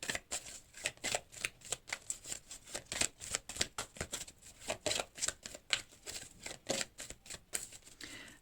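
Oracle cards are shuffled and drawn by hand in rapid crisp flicks and snaps, close and fairly quiet, with no talking.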